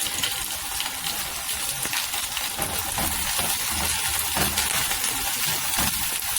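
Garlic frying in a pan gives a steady, moderately quiet sizzle and hiss that runs continuously without pause, with no talking over it.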